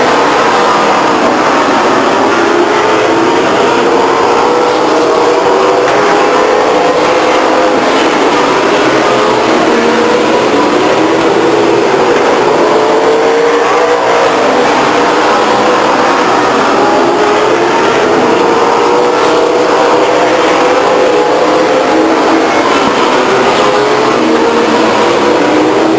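Race cars lapping past the grandstands at Stockton 99 Speedway, with engine drones rising and falling steadily in repeated passes. The sound is loud and continuous, with no voices.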